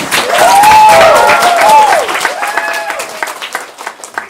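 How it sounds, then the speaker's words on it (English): An audience applauds to welcome Yale Law School professor Noah Messing as a special guest, loud dense clapping at first that thins toward the end, with cheering and voices mixed in. "Can we give him a warm round of applause?"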